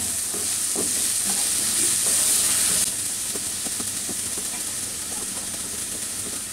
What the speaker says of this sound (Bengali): দিয়ে পেঁয়াজটাকে একটু হালকা বাদামি করে ভেজে নিব।